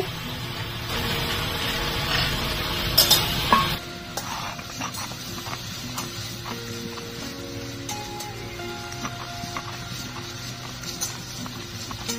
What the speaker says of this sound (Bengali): ভেজে রাখা মশলাটা গুঁড়ো করে নেব।